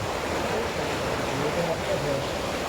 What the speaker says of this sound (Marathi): असं पाणी बाहेर वाहतं बायांच्या इथून